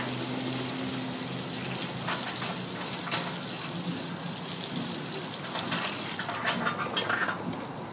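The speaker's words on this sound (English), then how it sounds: "I'm going to give the wheel a strong glass of water with the industrial fireman's nozzle." Strong spray from an industrial fireman's nozzle rinsing wheel cleaner off a car wheel, a loud, continuous hiss and splatter of water close by, easing and turning more splashy toward the end.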